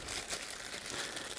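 Plastic bag around a G-Shock watch crinkles steadily and close, a continuous crackly rustle with no speech.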